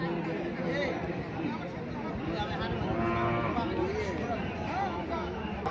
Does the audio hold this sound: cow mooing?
yes